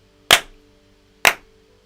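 Two sharp, loud hand claps about a second apart, close to the microphone and harsh enough to overload it, each with a quick decay into a quiet room.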